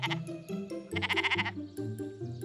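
Sheep bleating at a petting zoo: several wavering, nasal bleats in quick succession, close and loud, with a longer sustained cry in the middle and no talking.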